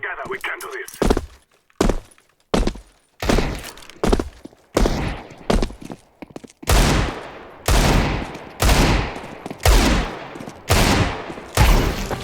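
Desert Eagle pistol shots in Counter-Strike 2, a string of loud, separate heavy bangs spaced about a second apart, each with a short ringing tail, mixed with game noise.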